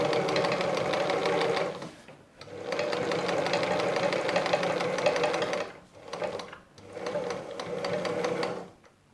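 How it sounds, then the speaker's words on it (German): A sewing machine stitches fabric for a hanging wall organizer, running back over an already sewn seam: three close, steady bursts of rapid mechanical stitching separated by brief pauses, with no talking. "nähen zurück und nähen nun die schon genähte Linie nach unten"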